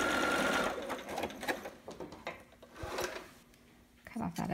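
A domestic sewing machine backstitches a seam on a fabric baby sitter, with short whirring bursts that stop and start in reverse and forward passes, close to the microphone, with light handling rustle between runs.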